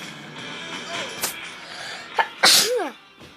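A single loud, explosive sneeze bursts out close up, with a breathy intake just before it and background chatter around it.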